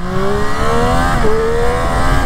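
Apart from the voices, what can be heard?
Triumph Street Triple 765 RS motorcycle riding onto motorway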